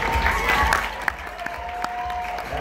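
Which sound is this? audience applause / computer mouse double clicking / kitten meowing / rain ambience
audience applause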